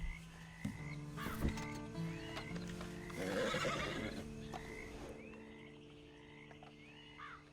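A horse in the video game Red Dead Redemption 2 snorts and whinnies close by, with hoof clip-clops and rustling, while frogs croak steadily in the background of the game world.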